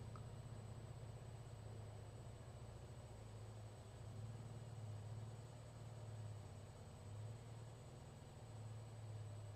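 A car idles outside a countryside house, a faint, steady low engine hum holding evenly for the whole stretch with no voices.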